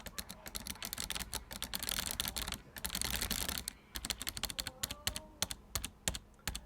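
Rapid clicky keystrokes on a Razer Ornata mecha-membrane keyboard, close and crisp, coming in quick bursts of typing with brief pauses between runs.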